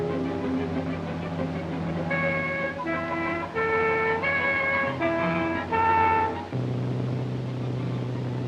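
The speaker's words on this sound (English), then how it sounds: "the three notes of the post horn will echo in the mountain valleys along the road" A Swiss postal bus sounds its three-note post horn on a mountain road, giving a loud, bright sequence of tones over engine rumble.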